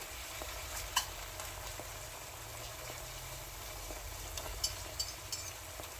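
Hamburger meat with flour sizzles quietly in a pan for spaghetti sauce, a soft continuous frying hiss punctuated by a few faint clicks and scrapes of stirring, with no talking.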